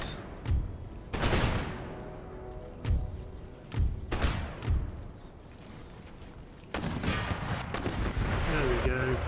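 Artillery guns in Empire: Total War pound a breach with repeated heavy booms spaced a second or so apart, then a dense continuous barrage of overlapping shots near the end.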